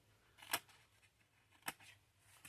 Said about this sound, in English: Just take your scissors and we'll trim that.